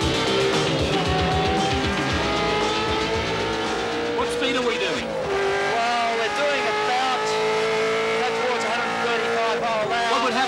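Race car lapping a circuit at around 150 mph, engine roaring loudly and continuously as it comes off a corner at speed, with someone talking over the engine noise throughout.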